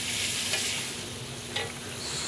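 BBQ shrimp sizzling steadily in sauce in a pan, a constant close frying hiss with a couple of brief stirring scrapes.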